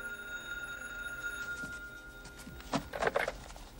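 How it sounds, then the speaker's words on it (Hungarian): A telephone bell rings with steady electronic tones, then stops, followed by a few brief clatters as the receiver is picked up, with no voices heard. "megszólalt a telefon"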